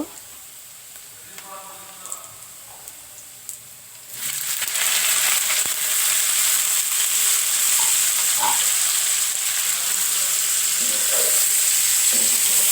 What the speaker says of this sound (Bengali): পেঁয়াজ মরিচ লাল করে নিলাম। এবার আমি কপি শাকগুলো দিয়ে দিব।